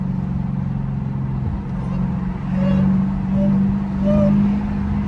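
Dodge Hellcat on a drag pack in third gear, a loud droning engine with a rising supercharger whine that swells twice as the car accelerates, heard from inside the cabin.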